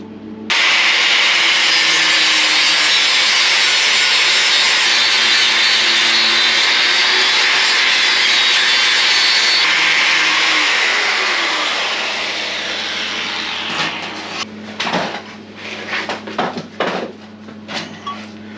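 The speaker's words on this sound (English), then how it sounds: "So I'll weld round the front here, then dress it all off." Welding on a Suzuki GS motorcycle part makes a loud, steady hissing buzz for about twelve seconds, then fades into irregular grinding-like bursts and knocks.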